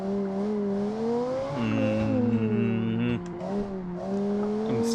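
Car engine in a driving video game revving and shifting, the engine note rising and falling through gear changes, loud and continuous, with a brief dip near the end.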